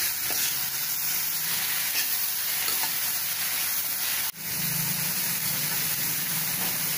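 Vegetables and soy sauce stir-frying in a pan for veg Manchow soup, giving a constant loud sizzle with faint stirring movement and one brief dip partway through.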